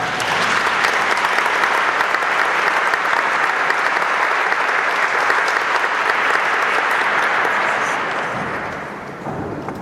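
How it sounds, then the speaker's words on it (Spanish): A large audience at an adult-education forum bursts into sustained, dense applause that holds steady and loud before tapering off near the end, with no talking over it. "recibamos con un fuerte aplauso a la doctora Judith Kalman Landman"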